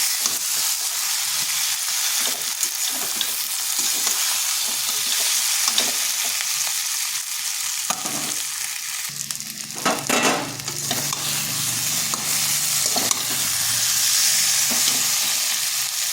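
Cauliflower, potato and egg curry sizzles and fries steadily in a pan, with bursts of stirring and scraping from a utensil, including a louder clatter near the middle, and no talking.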